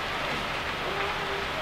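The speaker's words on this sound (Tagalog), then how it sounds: "Umuulan." Steady rain falls on a stormy morning in Saipan, a continuous close broadband hiss of drops on surfaces with no voices over it.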